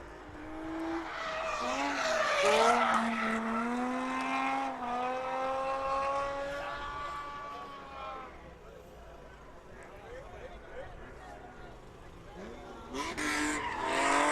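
Drift cars, among them a Ford Focus RS, skid around the track at a USDrift event at PBIR, with a tire roar rising and swelling behind loud, excited commentary from nearby voices.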